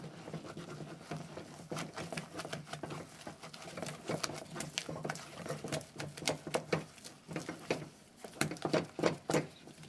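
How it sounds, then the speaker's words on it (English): Tuozaafi (TZ) porridge made with okra is stirred very fast in a pot, giving a dense run of quick scraping and slapping strokes that grow louder and more rhythmic, close by, with no talk. "I will be stirring very fast to prevent lumps from forming"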